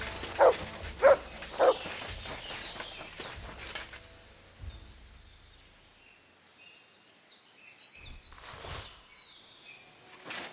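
A dog barks in Kingdom Come: Deliverance 2, a few short clustered barks early on amid faint rustling and bird chirps, with quieter scattered sounds later.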